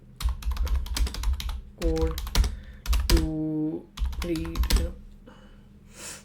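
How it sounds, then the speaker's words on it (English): Typing on an old Jabronics computer keyboard, with rapid, close clicking keystrokes in bursts and pauses. A voice speaks over the typing in short phrases. "I use an old keyboard"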